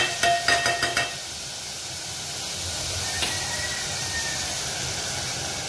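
Chillies and tomatoes fry in a pan with a steady hiss and sizzle, preceded by a few quick clinks at the start; close and moderately loud, no talk.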